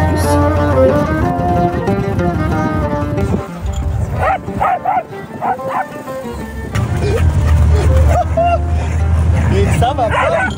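A dog barking and yipping as it runs along in a Moroccan village, with bursts of sharp barks and whimpers, close and loud, over background music and people talking.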